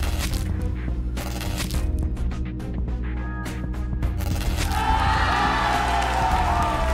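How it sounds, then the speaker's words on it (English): In-game audience in Salamander County Public Television cheers and shouts in bursts over background music, rising into a louder swell of crowd noise toward the end, with no spoken talk. "I have an audience cheering me on if I get it just right."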